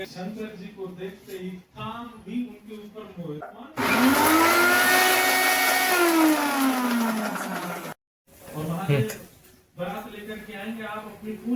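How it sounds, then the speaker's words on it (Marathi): A mixer grinder whirs loudly for about four seconds grinding spice masala, its motor pitch bending as it runs, with talking before and after. "हा मसाला आता मिक्सर मध्ये बारीक करून घेऊ."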